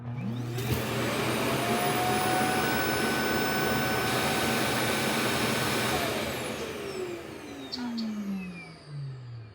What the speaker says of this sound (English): the amount of suction that base station produces to get the hair, debris, and other dirt sucked up